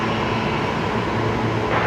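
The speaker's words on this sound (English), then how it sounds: "546 coming in next here on runway 19 left." A Qantas airliner on approach to Brisbane Airport's runway 19 left, its engines a steady, fairly loud broadband roar that holds level throughout the short stretch, with no voices.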